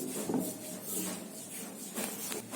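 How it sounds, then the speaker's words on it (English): A rolling pin presses and rolls soft bread slices flat in a kitchen, giving a faint, continuous rubbing and scraping sound with a few soft bumps, close by and quiet, with no talk. "Now I'll take the bread slices one by one and I will roll it on a rolling pan so that it becomes flat and smooth."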